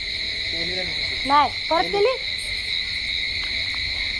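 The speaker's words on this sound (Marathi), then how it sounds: "भरपूर म्हणजे भरपूर रातकिड्यांचा आवाज येतोय." Crickets chirp at night in a dense, steady, high-pitched drone that runs unbroken under everything, while a short burst of hoot-like calls rises briefly above it and a voice speaks a few words.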